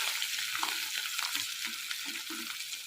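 Green chili paste sizzles steadily in hot oil for a mango pickle, with occasional soft stirring scrapes close by and no voices.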